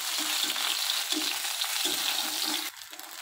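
Hand-torn soya chunks fry in hot oil for mixed chowmein, giving a close, steady sizzle broken by soft rhythmic stirring pulses, dropping quieter just before the end.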